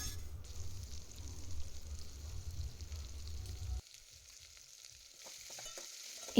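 Ridge gourd pieces fry in oil with a soft, steady sizzle and light stirring that cuts off partway through, leaving near quiet and a few faint clinks.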